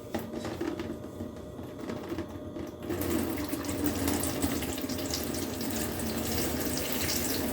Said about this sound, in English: So I am going to fill this little tub with my shower head.